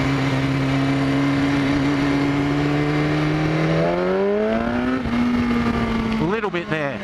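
A 2015 BMW S1000RR motorcycle pulls hard at full throttle in first gear from idle, its loud engine tone climbing steadily before a quick shift-like dip near the end, with a voice speaking over it.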